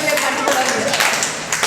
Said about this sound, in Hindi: एक बार इसके लिए भी ताली